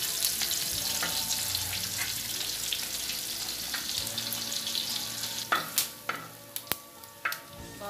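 Bacon frying in its own rendered fat, a close, continuous sizzle with sharp crackles and pops growing more frequent toward the end, no talk.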